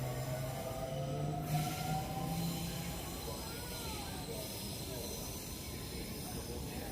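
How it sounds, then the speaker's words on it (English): A train rumbles past with a broad hiss, wheels faintly squealing in high tones over a continuous low roar. "I saw the train on the right, but then there's a train on the left too"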